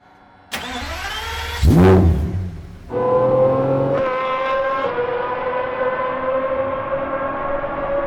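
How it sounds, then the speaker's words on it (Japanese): A Pagani Zonda supercar with an AMG engine starts with a sharp burst, revs high and shrill, drops, then settles into a loud, steady, high-pitched idle up close, with no talk over it. "これ AMG エンジン使いながらも甲高い音が出る"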